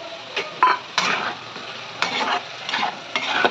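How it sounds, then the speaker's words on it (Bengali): Diced onion mixed into poppy seed paste in a pan, with several short, close bursts of scraping and stirring separated by brief quiet gaps. "পেঁয়াজটা দেবো এই পোস্তের মধ্যে।"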